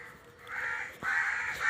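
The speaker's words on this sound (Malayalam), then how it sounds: "രാവിലെ തന്നെ കാക്കകൾ ഭയങ്കര ബഹളമാണ്" Crows caw loudly at close range on a morning homestead farm, with two or three harsh calls in quick succession and no talk.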